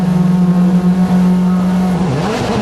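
A Ford Focus WRC rally car slides through asphalt city streets at the 2008 Rally Germany, its engine droning loud and steady, then dipping and rising as the car swings through the slide.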